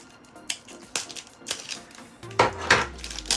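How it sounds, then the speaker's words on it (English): Several sharp snips and clicks, as of scissors cutting through plastic packaging, come in irregular bursts, close and fairly faint, with rustling near the end. "Just going to take a pair of scissors to cut this loose."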